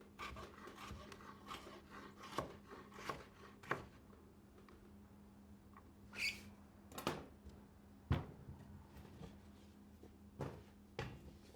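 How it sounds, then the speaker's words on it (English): A knife chops potatoes on a cutting board in a series of faint, irregular thuds and scraping strokes, some grouped in quick bursts with pauses between, quiet and close. "So I'm almost done cutting my potatoes"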